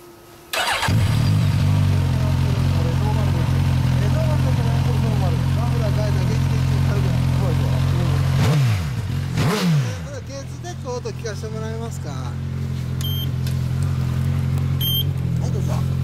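A 1998 Yamaha XJR1300 motorcycle fitted with an OVER Racing exhaust fires up close by and settles into a deep, steady idle, broken by two quick throttle blips, while people talk nearby.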